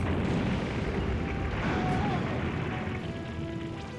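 A remote bomb blowing up in the vehicular combat game Twisted Metal 2, a heavy booming explosion with a sustained rumbling roar that slowly fades, loud and close amid game noise.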